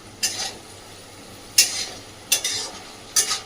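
Fried eggplant pieces are stirred in a pan of hot oil with spice, giving four sharp scraping strokes over a faint steady sizzle.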